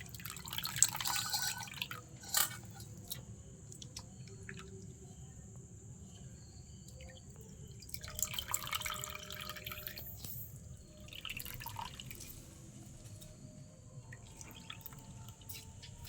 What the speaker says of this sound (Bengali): এবার এটা ভালো করে আমি বেশি করে ধুয়ে নেব, বেশি করে জল দিতে হবে।